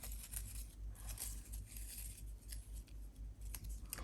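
Ink-edged paper cut from a book page being folded back up by hand, giving quiet crisp crinkles and soft scraping rustles over a low steady hum, with no talking.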